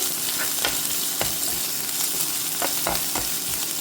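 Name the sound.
frying mustard seeds and crushed shallots in coconut oil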